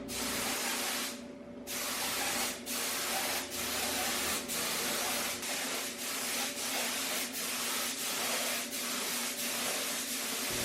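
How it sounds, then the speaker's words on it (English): A spray gun lays pearl paint onto Nissan 350Z bumpers outdoors, a loud, close, continuous hiss broken by a brief pause and a series of regular short gaps as the passes restart. "I'm going to just use clear coat after I spray this layer of pearl, just to lock everything in."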